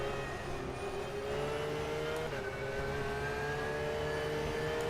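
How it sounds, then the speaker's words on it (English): A race car in the iRacing sim drives over huge bumps, its engine a steady, close drone with a whining harmonic tone and a brief dip in pitch midway, with no talking. "I'm just enjoying driving the car here over ginormous bumps."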